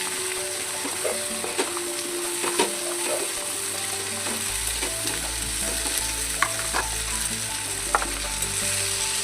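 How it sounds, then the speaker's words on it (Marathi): Cut okra sizzling in hot oil in a pan with cumin and turmeric, a steady close crackle and hiss with occasional stirring clinks and scrapes throughout. "आता टाकते जिरे, हळद, थोडीशी हळद आणि आता टाकायची भेंडी"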